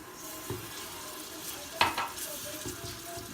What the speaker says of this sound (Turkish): ve salçaları koyup biraz daha kavuracağım